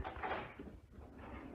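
A kitchen drawer slides open with a short muffled rumble and knock, a brief wooden scrape close by with no talking over it.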